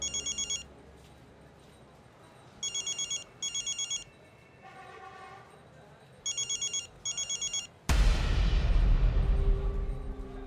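Telephone ringtone heard while a call is being placed: repeated bursts of bright electronic trilling in short pairs with gaps, then a sudden louder rush of noise near the end.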